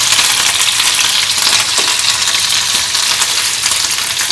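Green chili tossed into a hot pan, frying with a steady, loud broadband sizzle that runs the whole time, close up and without any talk.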